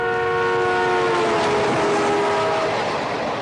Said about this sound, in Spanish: Según se acerca el tren, el tono del silbato aumenta.